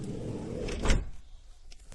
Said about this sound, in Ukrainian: чітко двері працюють